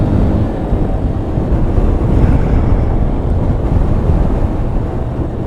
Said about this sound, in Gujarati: હવે પવન આવ્યો